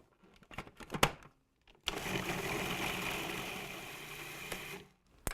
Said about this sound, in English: you're going to put those into your food processor, and you're going to grind them down